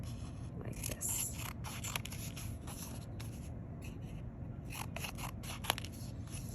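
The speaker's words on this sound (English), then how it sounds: "After you fold it in half, you just can trim the sides" Scissors trim the sides of folded paper for a pop-up flower craft, giving faint, close crisp snips and soft paper scrapes in short bursts over a low steady background hum.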